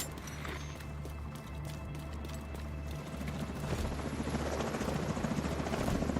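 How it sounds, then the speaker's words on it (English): An enemy helicopter in a video game approaching with a low, steady rotor thump and engine drone that grows louder and denser in the second half, with no speech. "Enemy helicopter approaching."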